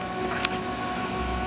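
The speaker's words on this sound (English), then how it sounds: "And it just did something. It just printed something." An HP 2015 laser printer hums steadily through a short print with a faint mechanical whir and one brief click.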